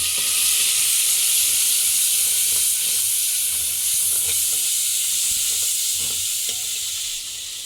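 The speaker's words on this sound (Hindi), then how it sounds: "अब हम इसमें थोड़ा सा पानी शामिल करेंगे।" Water hits a hot pan of frying ginger, giving a loud, steady hiss and sizzle that continues throughout with faint crackles, easing slightly at the very end.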